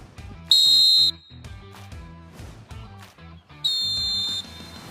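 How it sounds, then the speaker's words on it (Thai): A Fox 40 referee whistle blown twice, each a shrill, steady, piercing blast of about half a second to a second, loud and close over quiet background music. "นกหวีดตัวแรกนะครับ Fox 40"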